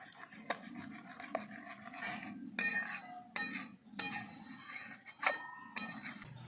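A spoon stirring thick biscuit kulfi malai mixture in a metal pot to cool it, with repeated scraping swirls and sharp clinks against the sides at an irregular rhythm, close and fairly quiet.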